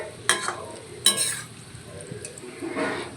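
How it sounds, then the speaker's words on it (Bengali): Small, medium-sized palm fritters (taler bora) fry in hot oil with a soft, steady sizzle, punctuated by two sharp clinks of a utensil against the pan and a low stirring scrape. "ছোট ছোট মিডিয়াম সাইজ করেই ভেজে দেওয়া হচ্ছে"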